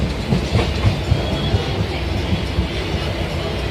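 Inside a moving train heading to Barasat station, a continuous rumble carries a rhythmic clickety-clack of the wheels, steady and fairly loud with no talk.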